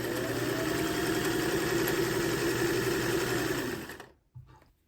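A sewing machine chain sews fabric pieces for a teen sling bag, running as a fast, steady mechanical whir and rattle up close for about four seconds, then stopping, followed by a brief soft clunk.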